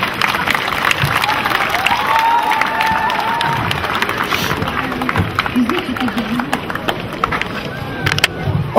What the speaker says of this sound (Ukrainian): Оплески, де діти, оплески.